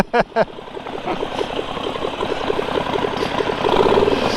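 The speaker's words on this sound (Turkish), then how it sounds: "Onun yerine başka motor sesi koyarız." A motorcycle engine idles with a steady, rapid putter, preceded by a couple of sharp knocks, close by and fairly loud.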